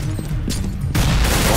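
Gunfire in the video game CS:GO comes as a dense burst of loud overlapping shots, building into a heavier barrage halfway through.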